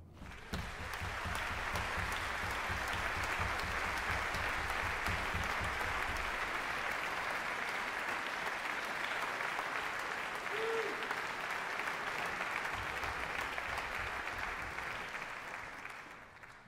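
Concert audience at a jazz performance applauding to welcome a soloist, a sustained, dense round of clapping that holds steady for many seconds before tapering off at the end.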